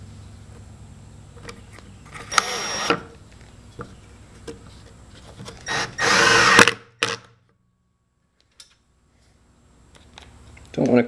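A power drill drives screws into wood in a few short bursts of whirring, close and fairly loud, with a longer run near the middle, quiet handling sounds between, and a person speaking at times.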